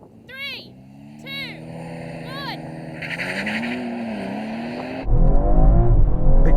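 BMW touring cars, an Alpina B3, M3, M340i and M340d, launching in a drag race, with rising engine notes climbing through the gears and a loud roaring surge at the end, heard under people talking.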